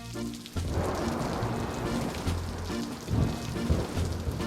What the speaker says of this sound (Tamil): மழை வேற பெஞ்சுக்கிட்டே இருக்கு.